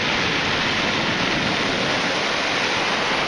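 Strong sea waves at Oludeniz beach in Turkey roar as a loud, steady, dense wash of surf with no break, close by and alone.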